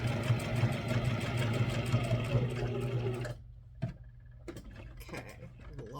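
A sewing machine stitching clothing runs in a fast steady whir with rhythmic ticking, then stops, leaving a few faint clicks and handling noises.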